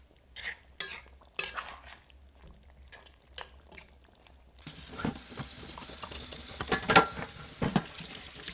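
Curry chicken for Trinidad roti simmering covered in a pot over low heat, with a soft bubbling sizzle and scattered stirring and lid clatters, a few sharp knocks standing out near the end.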